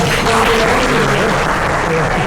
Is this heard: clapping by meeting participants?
yes